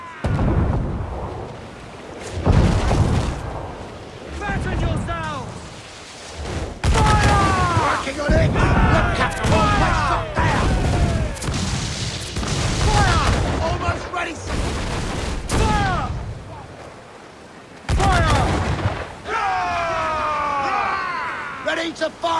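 Ship cannons firing in a naval battle in the video game Assassin's Creed Black Flag, heavy booming volleys rolling through repeatedly over about twenty seconds, with shouting crew voices and dialogue running on top throughout.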